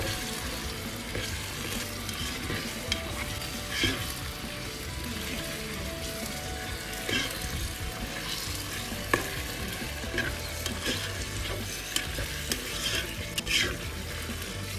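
Chicken curry sauce reducing in an electric pressure cooker while being stirred, with a steady low bubbling sizzle and occasional soft scrapes of the spoon, close and alone without talk.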